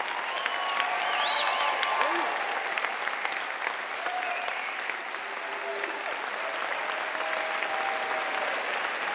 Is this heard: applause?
yes